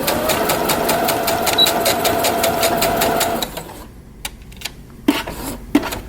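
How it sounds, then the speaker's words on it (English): Domestic sewing machine stitching to the end of a fabric piece for a small DIY sunglasses case, a fast steady mechanical chatter for a few seconds that stops and gives way to a few sharp clicks and handling noises. "we're going to sew to the end of this fabric here, and we're going to backstitch"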